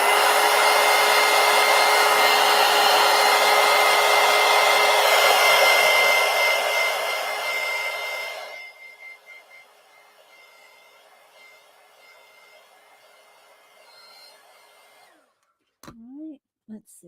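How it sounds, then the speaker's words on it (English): A heat tool blows steadily and loudly on a postcard collage for about eight seconds, then cuts off, leaving a faint fading whir and a couple of brief handling knocks near the end. "let's hit this with the heat tool real quick"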